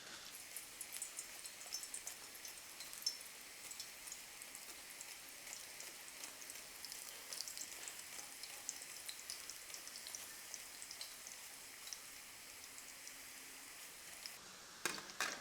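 Banana chips frying in hot oil over low heat, a faint, even crackling sizzle that stays steady throughout with no talking.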